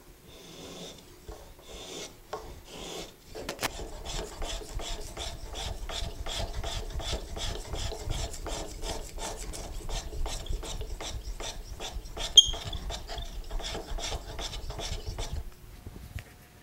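A spokeshave from a Hock Tools kit shaves a fine cut along wood, giving a steady run of close, rhythmic rasping strokes that repeat quickly for several seconds and then stop.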